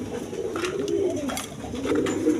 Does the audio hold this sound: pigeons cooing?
yes